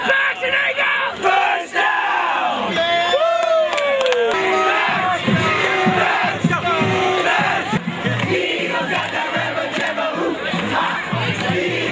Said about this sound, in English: oh yeah, we gotta do demons cheer.